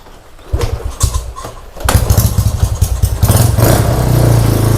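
A motorcycle engine cranks, catches and starts, then settles into a loud, throaty idle with revs building toward the end, close by.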